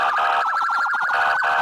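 A wailing electronic emergency siren sound effect, loud and close, sweeping rapidly up and down in a steady yelp pattern with a brief break before resuming.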